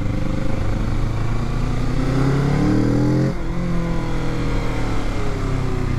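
A Kawasaki Z650 motorcycle on a test ride gives a loud, continuous engine drone. The pitch rises steadily as it accelerates, drops sharply as it shifts gear, then climbs again.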